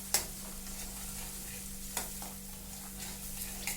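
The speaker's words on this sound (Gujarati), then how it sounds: "આ બધું જ હવે હલાવી દઈશું." Spices, onion and salt being stirred in a pan for a fenugreek and gram flour curry, a few scraping taps of the spoon over a steady low hum, no talking.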